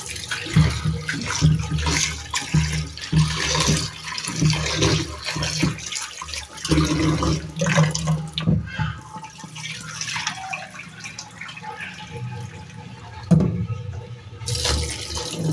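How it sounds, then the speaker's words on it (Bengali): Food being rinsed in water before soaking, with sloshing, splashing and pouring as the water is tipped out, close and moderately loud, with a brief louder gush near the end and no speech. "একবার একটু ধুয়ে পানিটা ফেলে নিই, তার উপরে ময়লাটা চলে যাবে"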